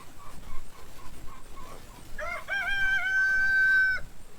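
A few quiet clucks from chickens, then a rooster lets out one loud, drawn-out crow close by.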